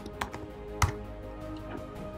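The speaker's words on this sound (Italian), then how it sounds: "digitare il nome dell'user" Several soft computer keyboard keystrokes, a few separate clicks spread over two seconds with one sharper tap, while a username is entered on a hosting login page; quiet room with steady background hum, no talk.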